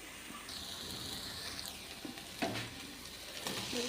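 Boiled potatoes and cauliflower go into a hot pan for gobi sabzi and sizzle as a spoon stirs them, with a steady frying hiss broken by clinks and scraping.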